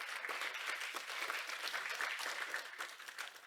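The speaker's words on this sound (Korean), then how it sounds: "수고해주신 발표자분들과 좌장 토론자분들께 다시 한번 큰 박수 부탁드리겠습니다." Steady audience applause closing a joint KDI–Bank of Korea symposium on poverty and labor policy in a super-aged society, thanking the presenters, moderators and discussants; a dense, even wash of clapping from a seated hall throughout.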